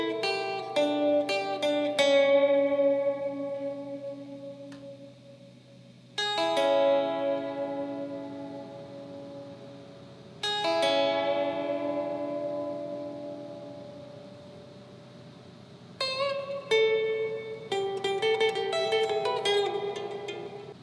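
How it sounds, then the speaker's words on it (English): A guitar solo rings out in clean plucked phrases, quick runs of notes followed by long sustained ringing tones that slowly fade, clear and alone with no talking. "So the solo is gonna sound like this."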